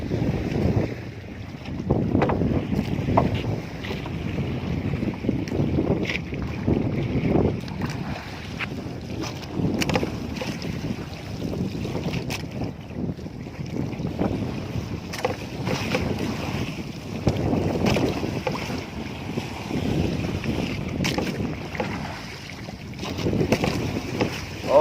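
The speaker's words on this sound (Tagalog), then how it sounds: "Malakas ang alon sa kadagatan." Strong sea waves and gusting wind around a small fishing boat at sea in the Philippines, a constant rough wash of water and blustery wind buffeting the microphone with no talk.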